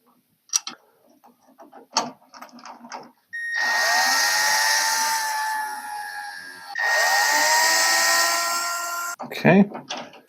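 Power drill whirring in two long sustained bursts, driving long screws for a Schlage door knob into an old 1940s bathroom door; short clicks and handling knocks come before and between the runs.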